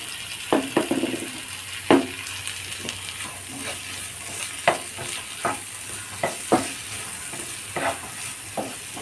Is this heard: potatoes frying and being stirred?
yes